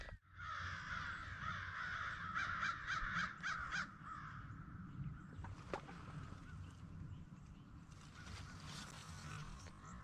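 Crows call repeatedly on a farm in a loud, raspy series, with a burst of harsh caws early on over steady outdoor background noise.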